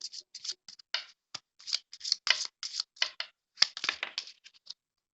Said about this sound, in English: the cards are shuffling very well